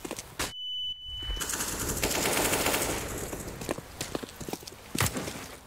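Rapid automatic gunfire bursts in Counter-Strike: Global Offensive on a training map, loud and close, with a sharp pop at the start and scattered shots after.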